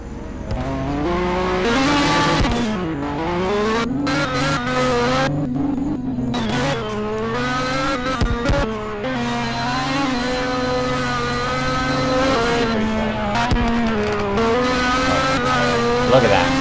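A car in a racing video game revs hard through repeated gear changes, engine whine rising and falling steadily while tires squeal, loud and continuous, with a voice talking over it.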